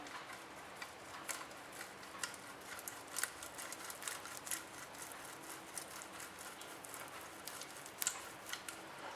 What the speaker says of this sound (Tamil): கிரேட்டர் வச்சு நான் உருளைக்கிழங்கை வந்து கிரேட் பண்ணிக்க போகிறேன்.